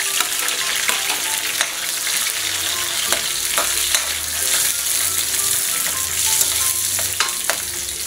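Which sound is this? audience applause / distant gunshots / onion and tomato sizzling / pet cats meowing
onion and tomato sizzling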